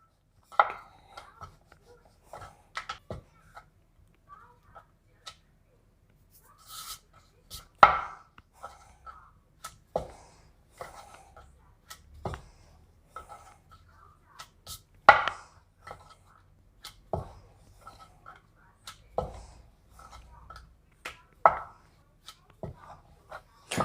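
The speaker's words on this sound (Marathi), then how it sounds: "आता थोडं थोडं पीठ लावून आपण पातळ कडकणी लाटून घ्यायची" A rolling pin works thin jaggery kadakni dough on a floured surface, making scattered close wooden knocks and soft taps at an irregular pace, each followed by quiet gaps.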